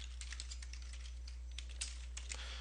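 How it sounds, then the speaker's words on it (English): Keys on a computer keyboard clatter in irregular quick bursts while a search name is entered, faint and close against a steady low hum, with no voices. "you can actually type in the name if you know the name of the one you want"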